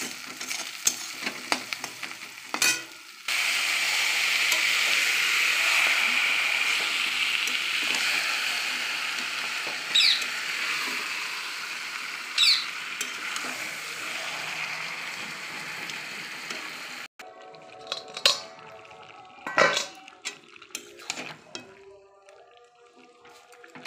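Meat is tipped onto fried onions in a hot pan, and the sizzle jumps up sharply into a steady, crackling hiss. Later come intermittent scraping and clattering stirring noises, with no talking.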